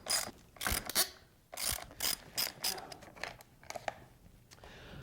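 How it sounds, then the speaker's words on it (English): Allen wrenches loosen and remove the hand guards on a motocross bike, producing a quick series of quiet ratcheting clicks and metallic ticks in uneven bursts, with no talk. "Mine just takes some Allen wrenches. I'll pull this off very quickly"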